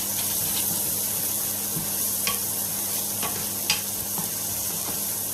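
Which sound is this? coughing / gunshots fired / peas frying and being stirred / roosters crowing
peas frying and being stirred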